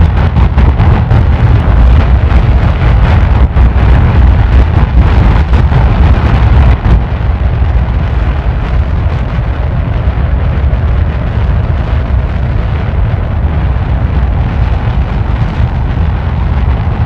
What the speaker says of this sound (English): Adding those few extra engines made it so much louder.